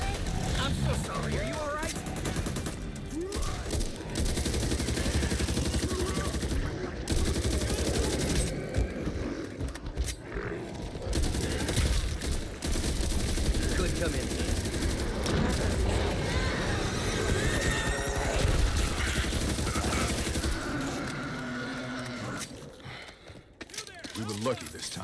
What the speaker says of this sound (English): Assault rifle! Clear him out!